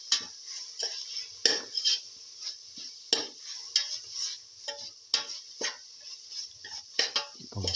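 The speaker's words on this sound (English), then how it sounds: "Salt and mix thoroughly" Chicken pilaf gets stirred in a pot after salting, a quiet hissing bed under a regular series of spoon scrapes and metallic clinks roughly every half second, close by with no speech.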